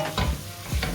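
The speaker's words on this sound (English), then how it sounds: "Our spices can go in now: curry powder, paprika, and mild chili." A spoon scrapes and stirs through a sizzling pan of jollof rice base with curry powder, paprika and chili, a couple of quick close strokes over a steady fry.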